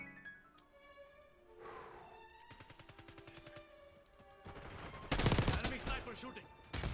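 Enemy sniper fire in a first-person shooter game: sharp gunshots cracking over game music and tones, building to a loud, dense burst of rapid fire near the end.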